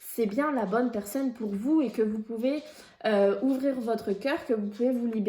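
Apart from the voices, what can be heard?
No distinct noise like a dog, phone or traffic.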